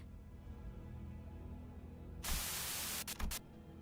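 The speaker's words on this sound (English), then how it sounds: "Sudden buzz of white noise breaks through the truck's silence." Radio white noise in the Limbus Company video game: a sudden loud burst of hissing static cuts in over a quiet hum, then breaks off in a few short stuttering bursts before dying away.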